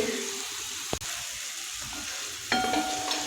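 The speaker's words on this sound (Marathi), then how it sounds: "आता मीडियम गॅसवरती हे सर्व ड्रायफ्रूट्स आपण परतून घेऊया" Dry fruits and raisins sauté in a pan over medium heat, making a continuous gentle sizzle marked by a sharp clink near the start and a brighter scrape later on.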